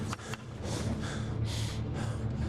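Video game character in Project Zomboid panting, heavy rhythmic breaths repeating in quick succession, close and fairly loud, with no speech.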